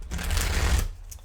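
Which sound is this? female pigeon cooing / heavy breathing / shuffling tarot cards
shuffling tarot cards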